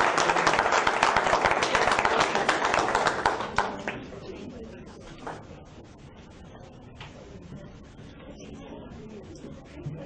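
An audience at a school board meeting applauds parents with dense, fairly loud clapping that fades after a few seconds into a quieter room with scattered small noises.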